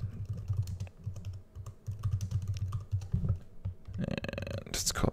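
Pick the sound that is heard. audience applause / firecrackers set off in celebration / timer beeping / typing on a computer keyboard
typing on a computer keyboard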